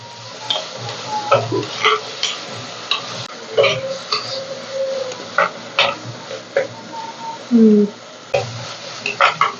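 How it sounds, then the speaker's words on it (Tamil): Tomatoes sautéed and stirred in a pan while cooking a fish dish, with soft scraping stirs and light sizzling in an irregular rhythm, fairly close and steady throughout. "தக்காளி சேர்த்துட்டு வதக்க போகிறோம்"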